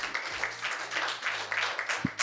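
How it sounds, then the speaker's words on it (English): An audience at a CEO business event in Nigeria claps in a steady, moderately loud burst, with some voices mixed into the applause. "I think we should give them a big round of applause."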